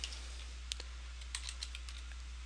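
Keystrokes on a computer keyboard as a command is typed into the Windows command prompt: a sparse run of light, quick clicks, faint and close, with no talking.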